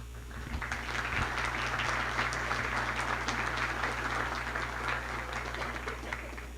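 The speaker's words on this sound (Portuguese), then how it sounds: "uma salva de palmas" An audience gives a warm round of applause at an evening event in Brazil as a guest and his wife are welcomed on stage, steady dense clapping at moderate level with no talk over it.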